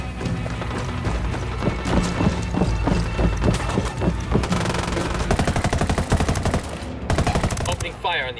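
Gunfire in the shooter game Ghost Recon Wildlands rattles in rapid automatic bursts, dense and close, with repeated sharp cracks running into sustained firing that tails off near the end.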